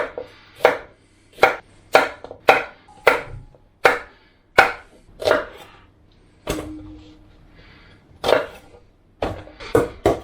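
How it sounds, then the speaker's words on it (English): Onions, carrot and celery are hacked into rough chunks with a knife on a cutting board: sharp, loud single chops at an uneven pace, about a dozen strikes with short pauses between them, no talk. "All I've done, we've quartered the onions, hacked the carrot into chunks, hacked the celery into chunks."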